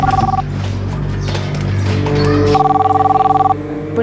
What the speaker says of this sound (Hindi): देखो तो किसका फोन है?